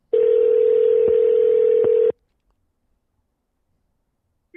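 A steady telephone dial tone sounds loud and continuous for about two seconds while a call is placed, then cuts off abruptly into silence.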